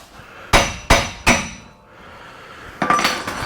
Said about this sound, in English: We'll try just a hammer.